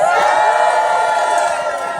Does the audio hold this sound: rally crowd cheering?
yes